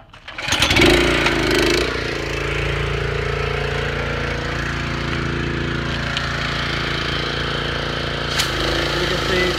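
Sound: pressure washer engine starting up

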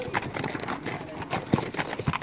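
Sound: mule team hooves on trail

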